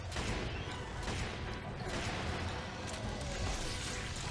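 Gunfire rattles through a battle in Lost Planet 2, a dense, continuous wash of shots and impacts with chaotic noise and no clear pauses.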